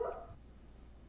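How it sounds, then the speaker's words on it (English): A single short dog bark sounds in the background of an indoor room, brief and moderately faint, with no talk over it. "I'm sorry if you heard my dog there in the background."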